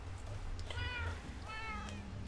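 A cat in the Minecraft video game meows twice in quick succession, two clear, tonal, game-style meows over a low background hum.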